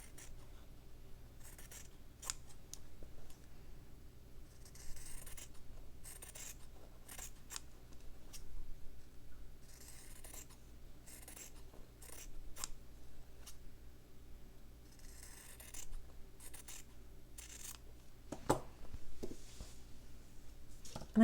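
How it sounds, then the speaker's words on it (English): Scissors snip around a hand-stitched fabric notebook page in short, quiet bursts of crisp cutting and rustling, separated by brief pauses, close up and with no talk. "From here I can just cut around, being careful not to cut through any of the stitches."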